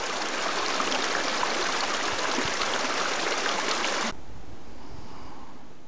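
A brook runs along a path on the Iveragh Peninsula in Ireland, a close, steady rushing wash of water that cuts off abruptly partway, leaving a quieter flowing background.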